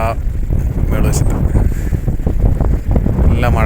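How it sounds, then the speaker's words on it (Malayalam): Strong wind gusting before rain beside the Vechoor bund bridge, a loud continuous rumble with bursts of buffeting while someone talks over it. "നല്ല മഴക്കാറ്, നല്ല കാറ്റും കേട്ടോ."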